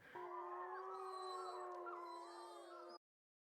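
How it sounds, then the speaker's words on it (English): A recording of wolves howling: several long, sustained tonal howls layered together, rising and wavering, fairly clear and continuous for about three seconds before cutting off to silence. "Do you want to hear wolves howling?"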